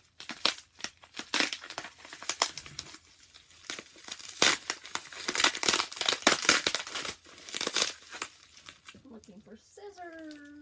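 Art supplies being unwrapped from their packaging: bursts of crinkling plastic and tearing at close range, irregular and uneven, ending with a short spoken comment.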